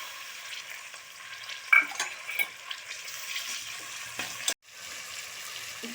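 Tomatoes hit hot oil in a pan for Kongu-style dal rice, giving a steady sizzle with stirring scrapes and a few light utensil clinks, close and moderately loud, with no talking.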